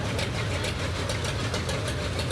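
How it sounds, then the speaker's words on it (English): A John Deere D tractor with straight exhaust chugs outdoors at a large tractor drive, its engine running loud and close in a continuous rough popping thrum with no pauses. "You could really hear the pop of that poppin' Johnny right there in front of us."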